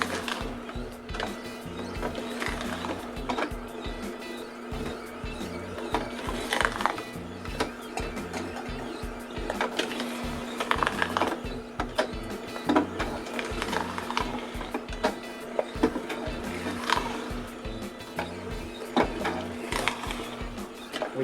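A twin gear juicer pressing apples into dry pulp gives off a steady mechanical whir with rapid ratcheting clicks and ticking, running continuously and fairly quietly throughout.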